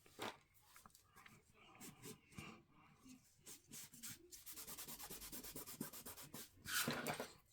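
Paper being burnished flat over a freshly glued pocket on a handmade tri-fold folio, a soft, close rubbing that swells into denser strokes toward the end, faint and continuous with a few light taps.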